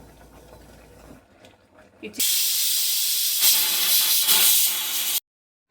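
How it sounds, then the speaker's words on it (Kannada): A pressure cooker of chicken sambar lets out a loud, sustained whistling hiss of escaping steam after some faint kitchen noise, cutting off abruptly. "ವಿಜಿಲ್ ಹೋಗಿದೆ"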